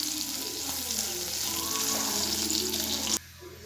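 Chillies frying in hot oil for a Kerala oil-style mango pickle, a dense steady sizzle that runs close and loud for about three seconds, then cuts down abruptly to a quieter hiss.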